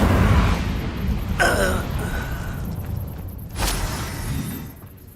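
Incendio fire spells cast in Hogwarts Legacy burst twice, about two seconds apart, each a loud whooshing, crackling flare of flame over steady game ambience, with no talking.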